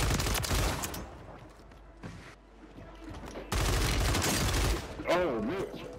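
Shotgun fire in the game Warzone, a series of loud, dense blasts in quick bursts with short gaps between them, mixed with other game noise and a player's voice talking over it.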